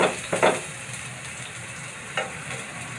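Chopped onion frying alongside okra in a pan, a soft steady sizzle with a few brief louder bursts of stirring or spatula scrapes, fairly close and without any voices.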